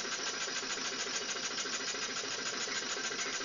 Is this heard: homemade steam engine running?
yes